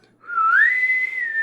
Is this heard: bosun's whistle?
yes